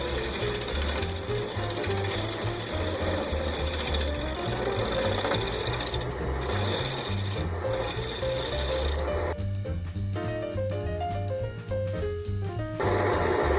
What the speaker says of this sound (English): As I come up to the wing, I'll start to roll my bowl gouge.